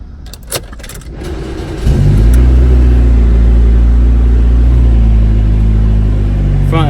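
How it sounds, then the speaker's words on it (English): A 2007 Ford Focus is started up close: a brief starter crank and clicks give way to a loud, steady engine idle that holds until the end. "Turn the car on."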